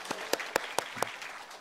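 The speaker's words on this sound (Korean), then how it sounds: "큰 격려 박수" A church congregation gives a short round of applause, a handful of distinct, fairly faint claps spaced out over a quiet background.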